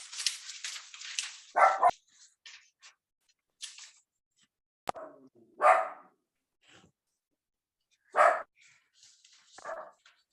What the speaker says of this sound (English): Fred deals with the dog that is not Rudy that's barking in his house